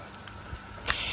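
Pressurized water jet arcing over a roof to wash out a third-story gutter four stories up, a soft steady spray hiss that swells into a loud, close rush of water near the end.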